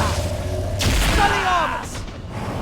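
A spell being cast in a Harry Potter and the Deathly Hallows video game lands as a bright magical whoosh with a deep boom and thud, followed by shimmering tones and a second faint burst over a low rumble.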